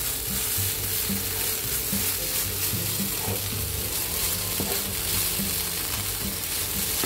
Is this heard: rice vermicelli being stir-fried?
yes